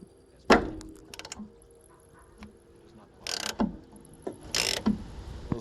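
Wrench or ratchet tightening 19 mm motor mount bolts on a 2003 Dodge Ram Van 1500, heard as a few separate bursts of metallic clicking and ratcheting with quiet pauses between, close by.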